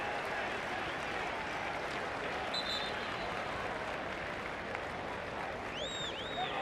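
Stadium crowd at a Sunday evening A-League football match in Wellington, around 7,500 people, giving steady broad applause and crowd noise with a few faint whistles, distant and continuous throughout.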